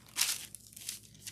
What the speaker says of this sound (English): So let's grab my parchment paper.